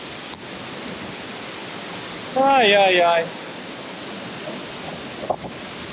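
A river along the Carretera Austral in Chile rushes with a loud, steady roar throughout, and a voice briefly exclaims over it midway.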